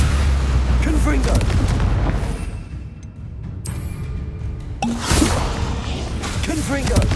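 Explosions from the Confringo spell in the video game Hogwarts Legacy, loud deep booms with whooshing bursts, heavy at the start and again near the end, with a voice speaking over them.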